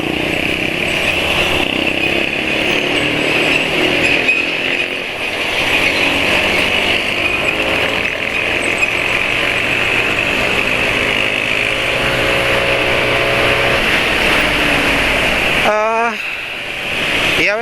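Motorcycle engine running on Deltalube Adventure oil idles steadily and loudly up close, with a buzzing mechanical drone that holds for most of the stretch before a brief rev near the end.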